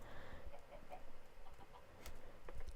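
Chickens cluck in the Minecraft video game, with short, quiet clucks scattered over a low background and no talking.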